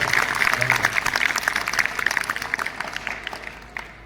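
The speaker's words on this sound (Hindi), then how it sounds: "ताली बजा सकते हो, ताली बजानी आती है, बजा के दिखा सकते हो।" A group of schoolchildren clapping at a school health awareness seminar, brisk scattered applause that starts full and gradually thins and fades toward the end, with a faint voice underneath early on.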